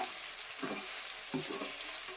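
Curry pieces fry in a pot while being stirred, with a constant close sizzle and two distinct stirring strokes, and no talking.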